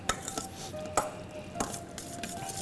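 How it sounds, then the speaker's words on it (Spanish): A spoon stirs esquites corn through melted butter and mayonnaise in a pot, giving close, wet scraping strokes with sharp clinks against the metal at a steady rhythm, and no voices. "Entonces ahora los vamos a revolver."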